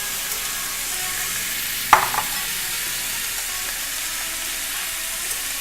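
Shrimp frying and being stirred in a jambalaya pan, an even background sizzle broken by a single brief scrape of a utensil partway through.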